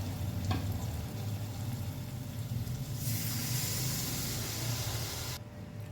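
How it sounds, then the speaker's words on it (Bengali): A spatula stirs a cashew, milk powder and sesame paste masala in a pan for malai potol, making a steady soft sizzle with brief scraping and a brighter hiss partway through. "সব কিছু খুব ভালোভাবে মিশিয়ে নেব"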